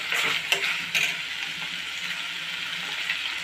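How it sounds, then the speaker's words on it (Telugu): Raw prawns sizzle loudly in a hot pan as they are stirred with cumin and coriander powders, a steady bright frying hiss with a few scraping stir sounds near the start. "రొయ్యలు వేస్తున్నానండి, జీలకర్ర పొడి, ధనియాల పొడి,"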